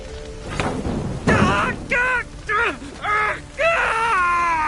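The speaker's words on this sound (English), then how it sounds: "My ears wither from the screams." Anguished human screams and wails from the Witcher 3 Hearts of Stone game rise and fall in several drawn-out, pitch-bending cries over a constant rumbling backdrop.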